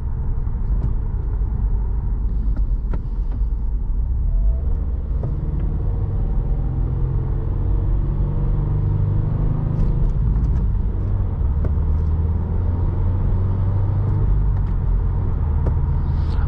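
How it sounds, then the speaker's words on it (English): Steady low road and engine rumble inside a 2016 Subaru WRX Premium with a 6-speed manual while driving, a continuous muffled drone with faint tire noise throughout and no talking. "I thought this would be like kind of loud and noisy inside, but no, they did a pretty good job isolating the sound."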